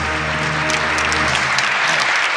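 Loud audience applause welcoming a symphony orchestra on a Taiwanese TV variety show, dense clapping over a lingering low musical tone that fades out under the claps.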